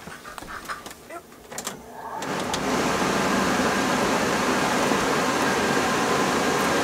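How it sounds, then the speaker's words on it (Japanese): A loud air conditioner switches on inside a converted bus, rising after a couple of seconds of quiet clicks and handling sounds into a steady, dense roar that holds to the end. "RB のエアコンつけるとこれぐらいの音がするんですよ。 なんですっごいうるさいんです。"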